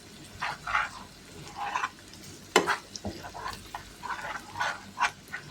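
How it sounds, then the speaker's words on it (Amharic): Onions and spices cooking in a pan with intermittent sizzling bursts and scraping stirs, fairly faint and close, in irregular pulses. "ይሄን ሽንኩርቱና ቅመሙን በደንብ አድርጌ አበስለዋለሁ ማለት ነው።"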